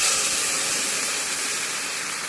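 Water poured into a hot pan of fried onion, potato and chilli for Bengali egg curry sets off a loud, steady steam hiss that fills the whole moment without speech.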